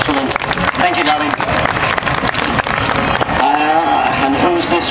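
An outdoor crowd at a falconry display at Caerphilly Castle claps during a summer festival, a dense steady patter lasting several seconds while voices carry over it.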